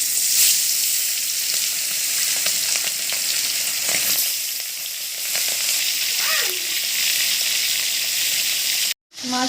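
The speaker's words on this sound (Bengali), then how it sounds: "এবার মাছগুলোকে আমি ভেজে নেব।" Hilsa fish pieces coated with salt, turmeric and chilli powder fry in oil, a loud, constant close sizzle with occasional scraping stirs, cutting off sharply just before the end.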